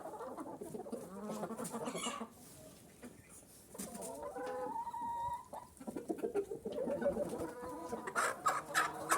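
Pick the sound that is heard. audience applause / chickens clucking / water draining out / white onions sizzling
chickens clucking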